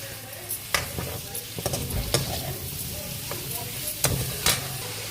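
Paneer pieces sizzling and frying in a pan of tempering spices, with scraping, stirring clatters of a spatula scattered throughout; steady, fairly close, no talking.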